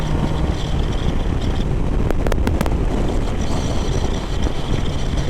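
Heavy wind roars over the microphone while riding an unfaired Kawasaki Z900RS motorcycle, a constant loud rush with engine rumble underneath and a few brief clicks.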